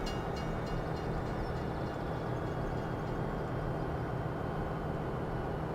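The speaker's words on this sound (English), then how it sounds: "Alright, we're going to park the train right here." A train in the video game Farming Simulator 17 rumbles continuously and steadily, a dense mechanical rolling noise with no talk over it.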